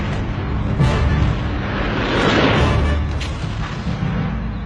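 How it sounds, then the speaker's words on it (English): Egyptian anti-aircraft guns and SAM missiles fire against Israeli planes in the October war, a loud, dense, continuous roar of blasts and rumbling detonations. "SAM missiles and anti-aircraft guns caused havoc"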